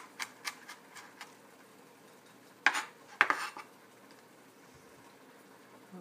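A knife works on fresh peeled garlic on a board: several light taps early on, then two sharp, louder chops close together, followed by quiet.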